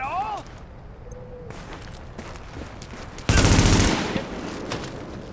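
Gunfire in Tom Clancy's The Division rattles steadily under a noisy combat scene. A louder, sharper volley breaks out near the middle and tails off, with scattered shots continuing around it.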